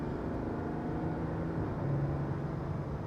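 The 3-liter engine of a 2023 GMC Sierra 1500 Denali pickup hums low and steady as it accelerates gently on the road, with even road and cabin noise throughout.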